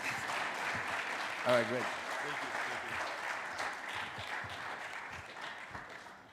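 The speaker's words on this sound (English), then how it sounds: "Please, are you clapping?" Audience applause at an education technology fellowship event fills the hall as a steady wash of clapping, with someone speaking briefly over it.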